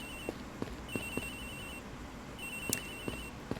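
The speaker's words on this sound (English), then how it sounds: "Anyway, do you got any thoughts, Gumshoe, while we're listening to the phone ring?" A cell phone ringing in the Ace Attorney Investigations video game, an electronic ringtone with repeating sustained tones and a steady beat of pulses, fairly faint and alone.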